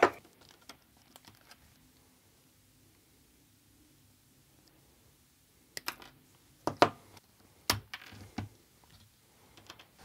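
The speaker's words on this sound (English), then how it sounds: "I'm just going to cut these to size with my side cutters" Side cutters snip square header pins to length, giving a handful of sharp, close clicks in a cluster after a mostly quiet stretch with faint ticks.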